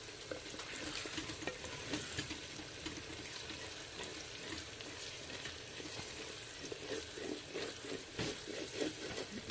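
Mince stirred in hot oil in a frying pan with a spoon gives a faint, steady sizzle and crackle, with soft scraping running throughout.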